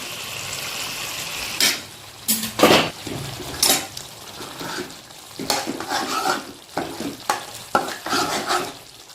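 A pot of mashed elephant foot yam simmering and being stirred, a ladle scraping and knocking against the pot over a bubbling wet sound. Irregular strokes come close and fairly loud, with no one talking.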